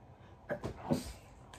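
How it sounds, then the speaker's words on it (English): A single human sneeze during gaming, a short faint sharp burst with a quick inhale-exhale shape followed by a soft breathy tail, close to the microphone. "I sneezed my headphones."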